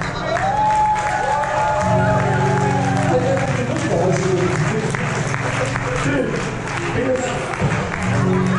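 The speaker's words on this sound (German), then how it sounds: "Und Applaus für den Film." Audience applause at a live comedy-style show, steady clapping and crowd noise filling the whole stretch, loud and close, with talk and voices mixed in over it.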